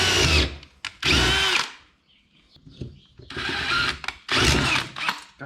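A power drill with a 3.5mm bit boring into a rusted 1951 Chevy window track, whining in two loud bursts, pausing, then running in two more sustained bursts close up.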